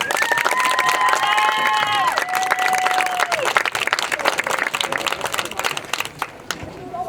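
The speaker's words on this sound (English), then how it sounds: "Please share a round of applause to celebrate Abby and her family." A crowd at a senior night sports event applauds and cheers to celebrate a player and her family, with clapping and crowd noise throughout and sustained tones, likely a band or whistles, fading out toward the end.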